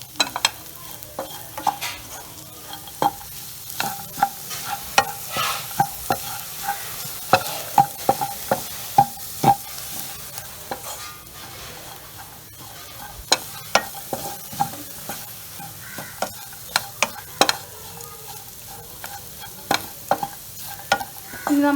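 Masala for Kerala-style beef roast is stirred and fried in a pan, with irregular, close spoon scrapes and clatters over a steady low sizzle and no talking.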